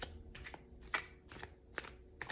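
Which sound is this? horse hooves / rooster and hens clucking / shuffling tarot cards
shuffling tarot cards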